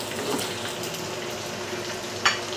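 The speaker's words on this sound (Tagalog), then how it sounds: "isunod na natin yung pangalawang batch ng ating pagpiprito" Tanigue fish sizzles in hot oil in a pan as a second batch fries for adobo sa gata, a steady close crackle with a brief louder splash near the end.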